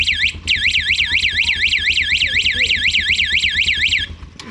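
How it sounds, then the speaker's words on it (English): A car alarm sounds close by, a loud, rapidly warbling electronic siren that cycles steadily for about four seconds before cutting off abruptly, with a low engine-like rumble beneath it. "I can put alarm for it."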